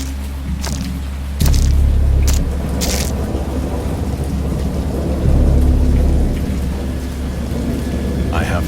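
Steady heavy rain pours throughout while deep rumbles of thunder roll in and out, with a few sharp cracks early on.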